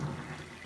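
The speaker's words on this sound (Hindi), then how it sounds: "बिल्कुल बहुत गर्म पानी आने लगा है" Hot water gushes briefly from the tap of an instant electric water heater, a short, steady, fairly quiet running stream.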